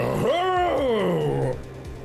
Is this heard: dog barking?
yes